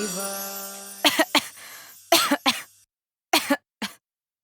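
A father coughs persistently in several rough, close bursts separated by short pauses, with a faint steady hum at the start and no talking.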